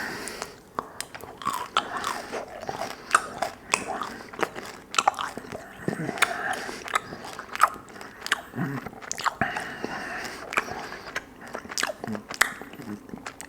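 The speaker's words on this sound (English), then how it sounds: "Get a new piece of gum going in." Fresh gum chewed right up close in a soft-spoken ASMR session, with continuous wet smacks, clicks and squishy bites in an uneven rhythm throughout.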